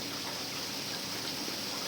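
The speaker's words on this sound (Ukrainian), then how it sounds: "Богу дякувати, дощик у нас прийшов." Summer rain falls steadily on a hot day, a dense even hiss of drops filling the air without pause and no voices.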